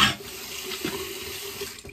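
Warm tap water runs steadily from a faucet into a sink to soak a shaving brush, a continuous close hiss and splash that holds even throughout.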